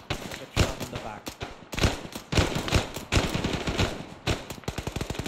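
Rapid bursts of automatic gunfire and single shots in the military video game ARMA 3, loud and dense, in irregular volleys with brief gaps between them.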